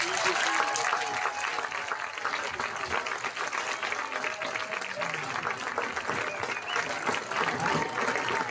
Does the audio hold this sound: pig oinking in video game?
no